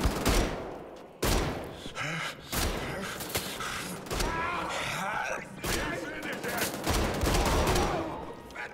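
An enemy in Wolfenstein: The Old Blood fires heavily, and loud, dense bursts of gunfire and sharp impacts repeat across the whole stretch, close and continuous.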